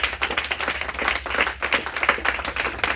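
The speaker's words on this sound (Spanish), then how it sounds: "Vamos a darle un aplauso a estos muchachos también." A church congregation applauding at a Sunday service, with dense, steady clapping from many hands that fills the room evenly and stays loud throughout.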